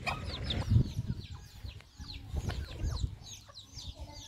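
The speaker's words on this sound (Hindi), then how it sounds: "अब ये देखिए, ये मुर्गी," A desi hen clucks softly and repeatedly while her chicks keep up a stream of thin, high peeping around her, close by and fairly quiet.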